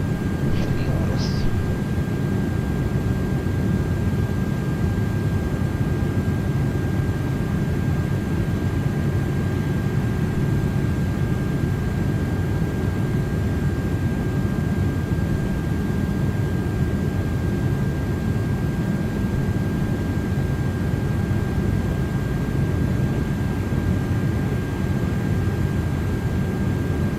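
An Airbus Beluga XL freighter in cruise flight in Microsoft Flight Simulator 2024, a loud, unbroken broadband engine drone with a faint steady tone above it, holding even throughout with no other sounds.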